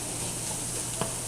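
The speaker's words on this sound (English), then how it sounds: "make sure your skillet is warm enough, hot enough, so we have a nice good sizzle going" A soft, steady sizzle of meat frying in a hot skillet, with one brief clink partway through.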